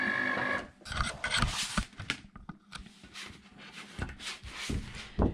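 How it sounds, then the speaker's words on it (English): A Cricut Explore cutting machine whirs and clacks up close as the mat is unloaded, with irregular mechanical bursts, rollers and small knocks running throughout at moderate loudness. "So I paused the machine and now we can unload so it won't cut."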